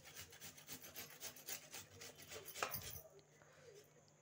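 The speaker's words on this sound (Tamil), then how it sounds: "இப்போ நம்ம வந்து சின்ன பல்லில் வச்சு சீவி எடுத்துக்கலாம்." A peeled radish being grated on the small teeth of a grater, rhythmic rasping strokes repeated quickly and close, faint overall, stopping near the end.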